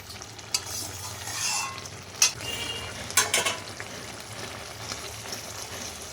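A pot of bean curry simmers and bubbles while being stirred, low continuous bubbling with a few louder scrapes of the spoon against the pan, no voices.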